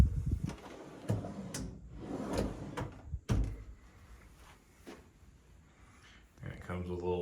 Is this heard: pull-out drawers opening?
yes